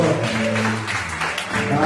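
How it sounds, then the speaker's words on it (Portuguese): A church congregation at a worship service claps together in a brief, loud burst, with music or voices sounding beneath the applause. "Você pode aplaudir o som do Senhor"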